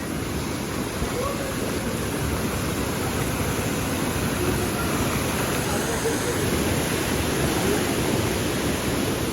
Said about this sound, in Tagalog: Shower falls pa lang po yan.